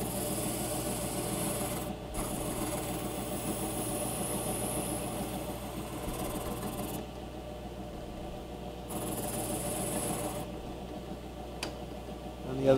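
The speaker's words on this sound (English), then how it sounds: "Just getting rid of the bandsaw marks." Smoothing off bandsaw marks on a small wooden drawer pull: a continuous, steady abrasive whir from a running machine, close and even in level for the whole stretch, with brief dips and a knock at the end.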